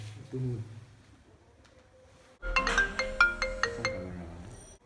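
A phone ringtone plays a repeating electronic melody, loud and close, after a quieter stretch with a bit of background talk.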